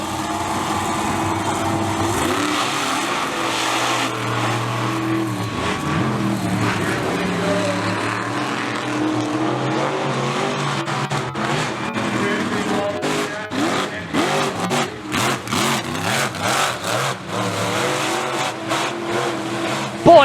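Monster trucks race at a Monster Truck Meltdown show in Seekonk, Massachusetts, their engines roaring and revving steadily throughout, with rising and falling pitch sweeps as they accelerate, dense and loud, with an announcer's voice faintly underneath.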